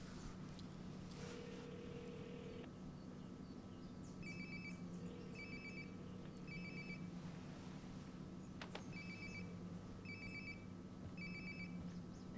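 A phone rings in Life Is Strange: Before the Storm, repeating short electronic bursts in a regular pattern, faint and slightly muffled over a low steady background hum.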